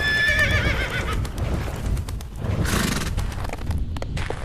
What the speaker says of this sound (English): Behold the bloody horse of doom!